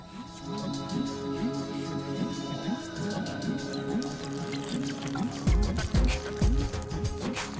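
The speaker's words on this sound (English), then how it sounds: "I am using a whisk and adding water gradually." A wire whisk works through medu vada batter as water is poured in gradually, giving repeated close wet strokes and liquid trickling sounds, with a few heavier thumps near the end.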